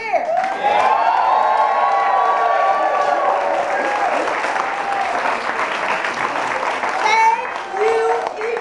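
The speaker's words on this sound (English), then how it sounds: "let's give them a cheer" Audience at a 2010 campaign rally in Baltimore for State's Attorney breaks into loud sustained applause and cheering, dense clapping with whoops and shouts that fades slightly before a brief swell near the end.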